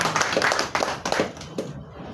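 Scattered applause for an artist at the ETA Awards Kenya unveiling, a handful of close, uneven claps that thin out and fade toward the end.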